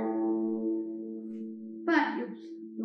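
A single guzheng note played with a reach-out technique rings out clearly and slowly decays over a couple of seconds, followed by a brief, louder plucked or voiced sound near the end.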